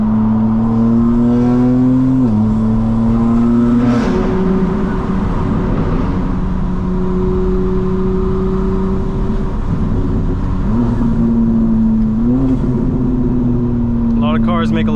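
A 2025 BMW M4 Competition xDrive engine drones loudly and steadily, its pitch climbing and dropping as it accelerates and shifts through gears, heard from inside the car driving through Atlanta.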